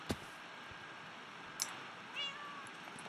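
Faint cat meows from a Minecraft pet cat, with a couple of brief high calls and clicks over quiet, steady game background noise.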